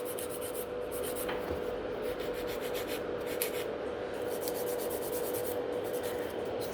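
Rapid, scratchy back-and-forth strokes of a nail file reshaping gel nails and blending them into the natural nail in a salon, close and soft, in irregular bursts over a low steady hum.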